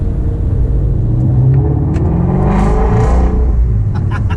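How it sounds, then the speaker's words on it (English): A Ford Mustang Shelby GT350R exhaust in sport mode rumbles deeply and loud, with throaty revs swelling and falling close by. "we already have it in sport mode, so the exhaust is on, as you can hear"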